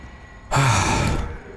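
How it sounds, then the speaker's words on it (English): A single heavy, rasping breath from a creature in the Resident Evil 4 Remake video game, a loud close exhale lasting under a second after a quiet lead-in. "That sounds like a very heavy breathing."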